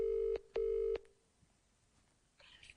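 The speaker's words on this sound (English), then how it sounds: "It's ringing." An outgoing phone call rings through the handset as two steady tone bursts with a short gap between them, then goes quiet except for faint background noise.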